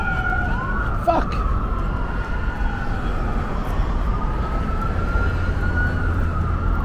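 Emergency sirens from an ambulance and fire truck wail on a Philadelphia street, a steady, sweeping tone holding loud and near over constant street rumble, with a brief sharp knock early on.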